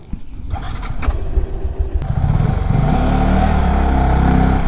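A Yamaha R15 motorcycle engine runs while being parked, a loud idle that rises into a steady, heavy drone after a brief clatter, up close with no speech.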